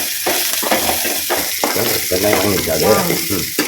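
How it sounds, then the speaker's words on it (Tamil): Chopped onions sauté and brown in a hot pan for a traditional bitter gourd kuzhambu, giving a loud, steady sizzle broken by repeated scraping stir strokes throughout. "தனியாக தான் கட் பண்ணிட்டு நல்லா வதங்கணும். ப்ரௌன் கலராக வரணும் வெங்காயம்"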